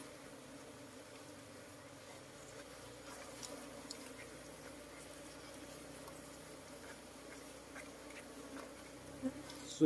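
Asian honey bees swarm and buzz at a wild colony nesting inside a tire, a steady, dense drone holding close and constant throughout with no speech.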